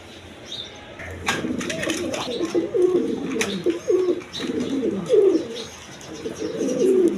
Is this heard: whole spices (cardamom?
no